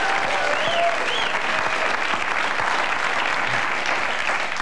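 Audience applause on a late-night political talk show, a steady dense wash of clapping from a studio crowd, loud and continuous throughout with no voices.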